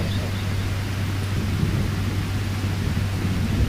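Steady, dense rain with a low rumble of thunder beneath it during a rainy-season religious gathering in Muzaffarpur, continuous throughout with an electrical hum and no speech.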